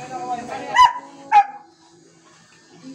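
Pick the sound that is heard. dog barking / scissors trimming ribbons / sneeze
dog barking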